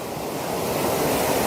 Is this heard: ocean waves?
yes